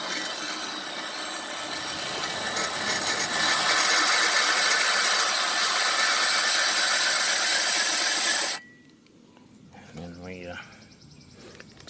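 A lawnmower engine valve is spun by hand under light pressure, making a steady, close, gritty rubbing and grinding for about eight seconds. It then stops abruptly, followed by quieter handling and a brief voice.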